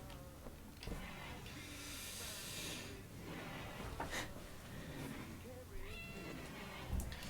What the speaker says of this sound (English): Sound of the cat.